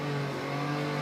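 A Porsche 911 race car engine on the Nürburgring holds a steady, loud, tonal drone under throttle, close and continuous for a brief moment.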